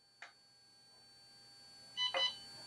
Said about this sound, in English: You can hear the beep, and now it's initializing.